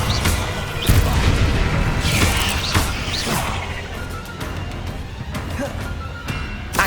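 The Incendio fire spell is cast during combat in Hogwarts Legacy on PS5. A loud, dense wash of crashing blasts and whooshes plays continuously, with repeated sharp impacts and some faint voices underneath.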